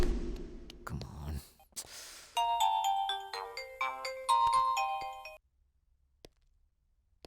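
A mobile phone ringtone sounds for an incoming call, a bright melodic electronic tune of rapid notes lasting a few seconds after a brief breath and murmur, then quiet.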